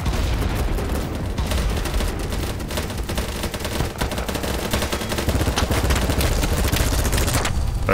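MP7 submachine gun fire in the large-scale multiplayer shooter BattleBit Remastered, with dense, continuous bursts of rapid shots and other gunfire layered over a steady loud battlefield din throughout.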